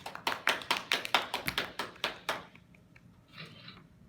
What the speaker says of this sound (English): let's clap for Gabby